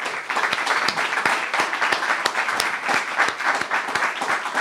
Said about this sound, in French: Et je vous demande de remercier aussi, en applaudissant bien fort, Jennifer Murzo.